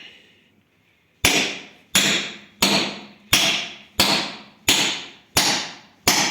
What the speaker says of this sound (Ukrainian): З помощью молотка залазить.